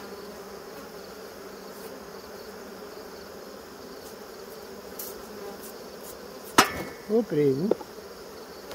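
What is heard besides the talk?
bees buzzing at a beehive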